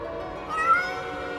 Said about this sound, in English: I found the noise. It was Marco's cat.